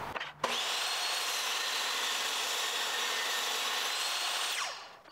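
Power saw ripping a wooden window sill board to width, a loud continuous whine and rasp through the wood that starts abruptly, holds steady for about four seconds, then winds down.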